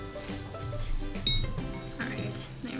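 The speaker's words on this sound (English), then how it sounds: "I'm gonna give it a nice quick stir." A pot of vegetable scraps with maple syrup just added gets a quick stir, producing faint clinks and scrapes of the utensil against the pot under continuous talking.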